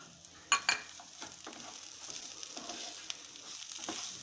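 Chicken chukka with coriander being stirred in a frying pan. Quiet, continuous sizzling runs under a few sharp scrapes of the spoon near the start.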